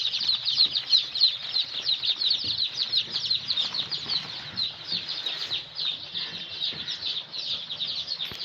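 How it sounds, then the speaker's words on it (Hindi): Desi Sonali chicks hopping and playing in a warm brooder, a lively flock of high, continuous peeping chirps with fluttering wings, close and fairly loud. "चूजा एकदम स्वस्थ, सभी खेल रहे हैं, इधर उधर उछल कूद मचा रहे हैं।"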